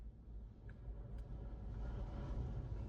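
A Fiat Seicento Sporting drives on the road during a test run after a crank sensor repair, its low engine and road rumble steady and moderately quiet, slowly building slightly toward the end.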